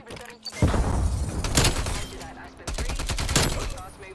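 Gunfire in Call of Duty Cold War with the Milano submachine gun: two loud sustained bursts of rapid shots separated by a short lull, ringing and close, with a faint voice underneath.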